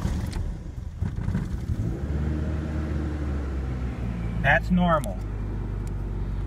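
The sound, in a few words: Ford Ranger engine starting and running down to idle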